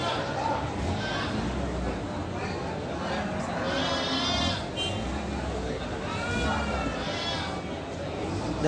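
Garut sheep bleat at a livestock market in Tanjung Sari, several wavering calls rising over a loud crowd and steady nearby talking.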